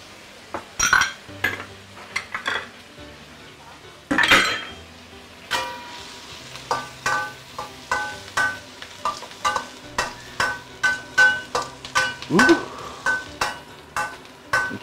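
Dried chilies and curry leaves stir-fry in hot oil for Malaysian kam heong crab, with a continuous sizzle under rhythmic scraping and clanking strokes of a spatula against a wok, close and fairly loud.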